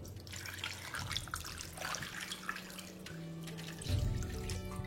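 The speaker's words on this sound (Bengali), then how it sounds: "এবার আমি এর মধ্যে দিয়ে দিচ্ছি জল।" Water poured into a bowl over fish being prepared for a masala fish fry, a quiet continuous splashing trickle that swells briefly near the end, no voices.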